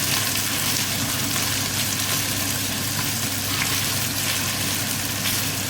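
Chicken pieces sizzle in a pan with onion and ginger, a steady, loud, close broadband crackle and hiss with occasional stirring clatter, no voices.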